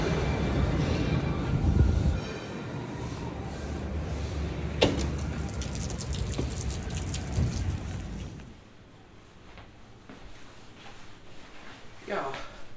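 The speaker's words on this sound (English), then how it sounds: "it is pouring. Like cats and dogs outside." Heavy rain pours outside, a loud continuous wash over the whole stretch that eases partway through, with people talking.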